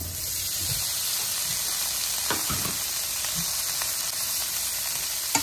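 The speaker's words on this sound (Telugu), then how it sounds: "అలా బటర్ వేగుతున్నప్పుడే మనం పన్నీర్ పీసెస్ కూడా వేసేస్తున్నాను చూడండి" Paneer pieces frying in melted butter in a pan for a paneer curry, a steady, loud sizzle throughout with a few faint stirring knocks.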